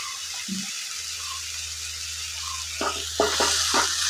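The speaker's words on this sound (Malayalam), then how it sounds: "മസാല കൂടെ എല്ലാം കൂടി ഇട്ട് നല്ലതുപോലെ വഴറ്റിയെടുക്കാം" Masala with curd sautéing in a rice cooker pot for chicken dum biryani: a steady low sizzle and hiss throughout, with a few soft scraping stirs near the end, close and without talk.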